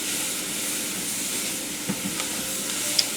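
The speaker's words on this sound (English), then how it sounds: "we are going to cook this until the vegetables are soft and starting to become translucent" Vegetables for étouffée cooking in a pan with oil, giving a steady soft sizzle and hiss throughout, with a few faint stirring clicks near the end.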